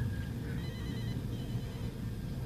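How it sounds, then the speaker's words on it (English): A telephone rings with repeated warbling electronic trills over a constant low background hum, moderately loud and alone without speech. "The phone is ringing."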